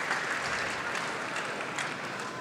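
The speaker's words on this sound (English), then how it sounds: "And the crowd applauding his fair play." Crowd applauding at a table tennis world championship match in Dortmund, a faint but steady even patter of many hands clapping from across a large hall, with no talk.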